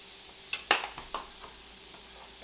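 Chicken with spices stirred in a pan: a few quick scraping, clattering strokes of a utensil against the pan over a light sizzle, then fading to a soft fry.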